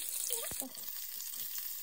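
Mustard seeds, cumin and asafoetida temper in hot oil with a steady, hissing sizzle for paneer bhurji, briefly broken by a soft pop and clink of a utensil, fairly faint and close.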